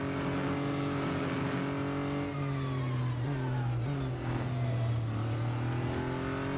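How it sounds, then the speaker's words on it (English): Race car engine in the Real Racing 3 video game, a steady close whining drone with stepped pitch shifts as gears change, continuous and alone with no talk. "I love the engine noise, but the higher the speed, the more it seems the electric engine kicks in."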